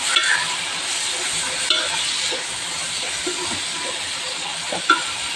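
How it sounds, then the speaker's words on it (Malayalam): Garam masala being stirred into chicken frying in a pan for a chicken dum biryani, a steady close sizzle with scraping stirs and a few sharper knocks of the spoon against the pan. "ഇനി നമുക്കിതൊന്ന് നന്നായിട്ട് ഒന്ന് മിക്സ് ചെയ്യാം"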